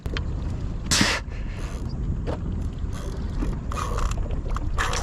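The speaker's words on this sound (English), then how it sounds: "I got about 8 kilos of drag on this reel." Reel drag clicks out in short ratcheting bursts during a fish fight from a boat off an uninhabited island beach, irregular and close, over a steady background wash.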